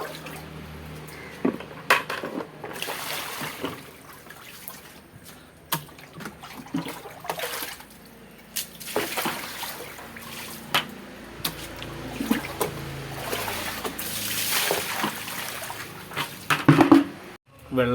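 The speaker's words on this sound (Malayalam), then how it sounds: "ഈ ഒരു ബക്കറ്റ് ഉപയോഗിച്ചിട്ട് ഇത് വെള്ളം ഫുള്ളും കോരി കളയാണ്" Water is scooped with a bucket out of a fridge converted into an African catfish tank: repeated sloshing splashes and pours, bucket knocks and clatter, steady and close.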